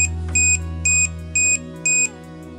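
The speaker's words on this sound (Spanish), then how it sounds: "si hay personas dentro del lugar, me encenderá la alarma" Alarm set off by a PIR motion sensor module, four evenly spaced electronic beeps, loud and sharp, over a constant low electrical hum.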